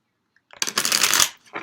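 Tarot cards are shuffled close up in one quick riffling burst of papery flutter, followed by a short second snap of cards.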